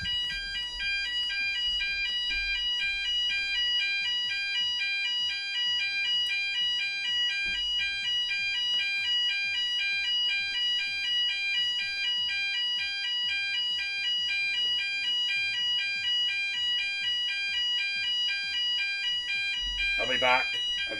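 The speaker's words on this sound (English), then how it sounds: "Fire alarm was going off." A fire alarm blares continuously in a steady, loud pulsing electronic tone throughout, with people talking in the background and a brief thump near the end.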